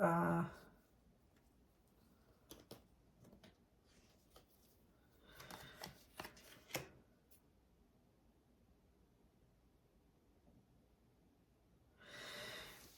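Tarot cards are shuffled and pulled in soft bursts of papery riffling and flicking, separated by quiet pauses, with a brief breath or sniff at the start.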